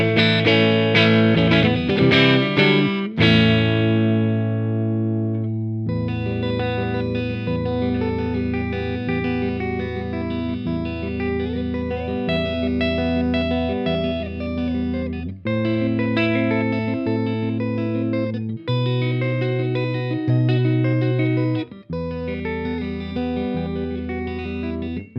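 Electric guitar played through a clean amp model on a Line 6 Helix, with slight breakup: sustained strummed chords and ringing notes, loud and close, with a few abrupt stops between phrases and no talking.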